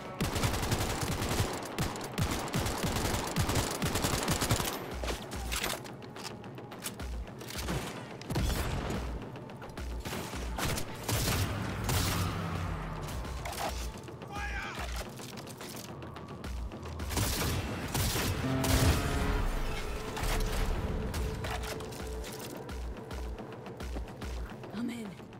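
Turret gunfire in the Cyberpunk 2077 video game: loud, dense bursts of automatic shots and clattering mechanical noise run through the whole stretch, with voices talking over the firefight.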